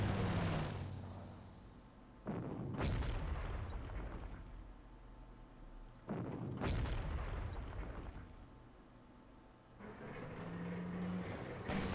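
Artillery bombardment in the wartime strategy game Panzer Corps, with three heavy booming explosions a few seconds apart, each a loud sharp blast that fades into a long rumbling decay.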